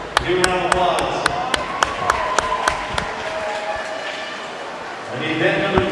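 Applause for the medal winners at a swim meet finals echoes through an indoor aquatics venue. Regular sharp claps ring out over a crowd murmur for about five seconds, then a voice takes over near the end.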